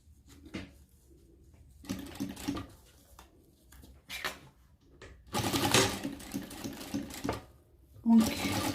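A sewing machine stitches a velcro strip down the middle of fabric for a bike bag, running in several short bursts of fast mechanical whirring and tapping, close by, with stops and handling noises between runs.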